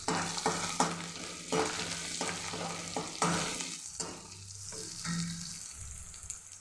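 Curry leaves and coriander crackle in hot oil with a pinch of turmeric for a Shimla mirchi masala bhaji, with a steady close sizzle broken by sharp spattering pops and occasional stirring scrapes.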